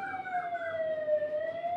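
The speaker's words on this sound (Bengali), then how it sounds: "ওই দেখো সাউন্ড হচ্ছে যে সাইরেন বাজছে।" A siren wails outside, heard from indoors: a continuous rising-and-falling electronic tone with clear harmonics, moderately faint and alone over a quiet background.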